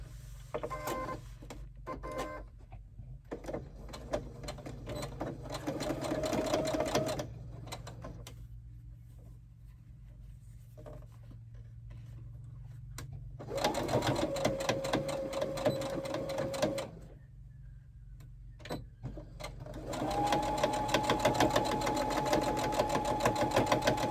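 A sewing machine runs a cotton lining and vinyl seams, reversing back and forth, in three steady whirring runs with pauses between, close and clear with almost no talking.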